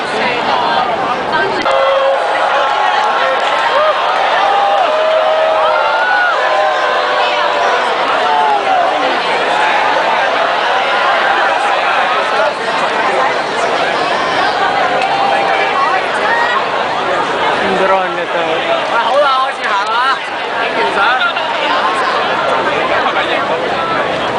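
Dense crowd at an evening street protest in central Hong Kong, a constant loud roar of overlapping voices and chatter close around, steady throughout with no breaks.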